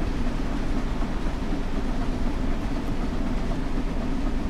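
An RB 33 regional train in Train Sim World 4 rumbles past while overtaking, a steady dense rolling roar of wheels and engine that stays loud and close throughout, with no talk.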